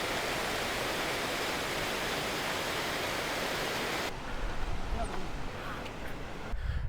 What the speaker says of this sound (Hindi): दोनों तरफ से पानी आ रहा है बढ़िया